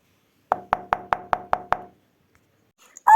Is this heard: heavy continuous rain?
no